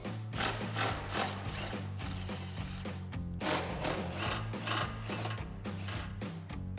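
Ratchet wrench with a 13mm socket loosening bolts on exhaust cross members during a Corsa cat-back exhaust install on a Dodge Charger, rapid close clicking in repeated bursts.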